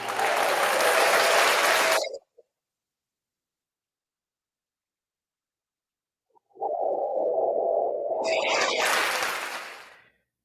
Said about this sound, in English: Let me give a loud round of applause to the Tampa Bay Bucs